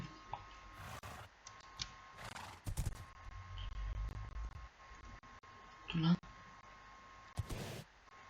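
Hooves clip-clop in steady rhythm while a horse is ridden in Minecraft 1.9 survival, with an occasional whinny; the hoofbeats run fairly close and moderately loud, and a person talks intermittently over them.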